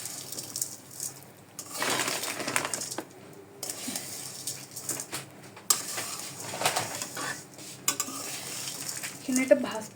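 Vermicelli frying in ghee while being stirred in a pan, with a steady hiss and sizzle broken by repeated scraping bursts and light metallic clinks of the spoon, close up and with no one speaking.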